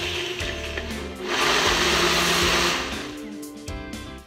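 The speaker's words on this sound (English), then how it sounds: "Add in my frozen fruit, so mangoes, bananas, and then press smoothie." A Ninja Power Nutri Duo blender on its smoothie setting, crushing frozen mango and banana, whirs loudly up close, surging into a harsher grinding roar midway before settling back.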